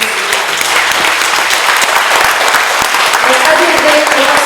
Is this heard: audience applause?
yes